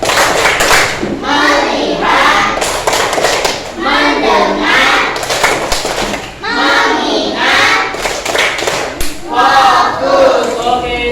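A classroom of pupils doing the 'tepuk fokus' clapping routine, sharp rhythmic group claps in short patterned bursts mixed with loud chanted children's voices, close and lively throughout.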